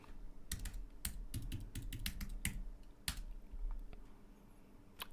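A server password is typed on a computer keyboard, a quick run of close, crisp key clicks in uneven bursts, then a pause and a few final taps, with no voice.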